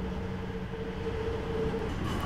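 A Hamburg U-Bahn DT5 subway train running in the SubwaySim Hamburg game gives a steady, loud rumble with a sustained tonal hum throughout and no talking.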